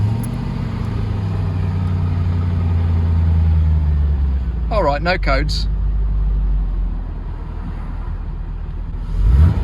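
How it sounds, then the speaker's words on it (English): A C4 Corvette ZR-1 engine cranks, catches and settles into a steady low idle. A voice speaks briefly over the running engine, and a short electronic chirp sounds partway through. "So if I start the car."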